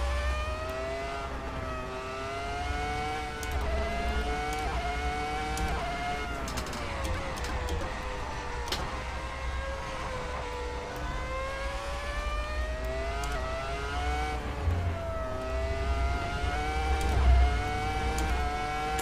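Ferrari F2004 Formula One car in the video game Assetto Corsa, a loud high-pitched engine wail that climbs and drops steadily as the car accelerates and lifts through corners, with no talk over it.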